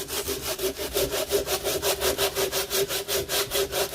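Rhythmic rasping strokes of sanding, back and forth about four times a second, close and steady with no voices.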